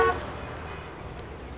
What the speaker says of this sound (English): Lots of honking cars.